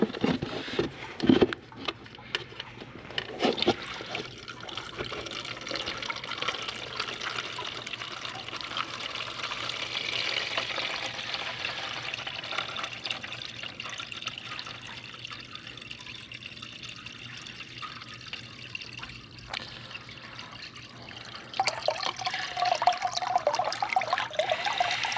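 Trapped water drains out of a 1972 Allis Chalmers M65 road grader into a coffee can, a long steady trickle and splatter close by with a few knocks, continuing without talk.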